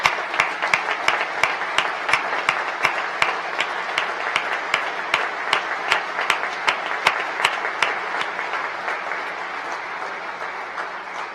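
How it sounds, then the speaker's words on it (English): An indoor audience at a state of the state address applauds students, with steady, dense clapping and a few sharper claps standing out, sustained for about eleven seconds before thinning slightly. "Students, give yourselves a round of applause."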